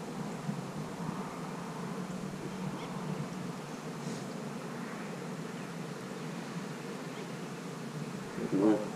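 Honey bees swarm around an open hive during an inspection, a soft continuous hum near the frames with brief louder passes and some rustling.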